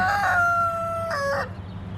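A rooster among free-range farm chickens gives one loud, nearby crow with a drawn-out middle note and a rising finish, then the yard goes quiet.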